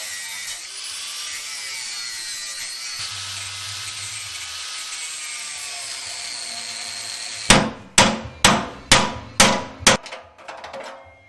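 Old subframe connectors being cut off a Chevy Nova subframe, a steady grinding whine for several seconds followed by a row of about seven sharp, loud metallic impacts at an even rhythm.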